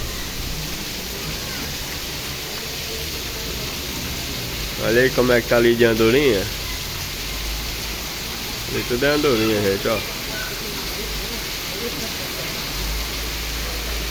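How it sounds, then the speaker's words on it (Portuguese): Heavy rain pours down over the town of Barreira in a steady, dense hiss that fills the whole stretch, with someone speaking briefly over it twice. "Eita, que é muita chuva na nossa cidade de Barreira."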